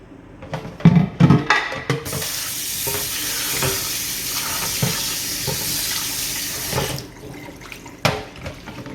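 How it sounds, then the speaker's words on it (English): Tap water runs steadily into a kitchen sink as beef is rinsed in a strainer for beef stroganoff, with a few clattering knocks near the start and a broad hiss from about two to seven seconds. "put it in here and rinse it off one last time and season"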